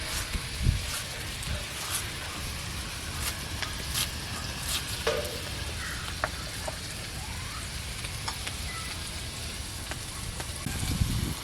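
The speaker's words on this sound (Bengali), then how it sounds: "আলুটা তারে কড়াই ভাজুক, লাল লাল হোক" Potatoes fry in a wok with a steady, close hiss of oil, broken by scattered sharp pops and occasional soft knocks, while no one speaks.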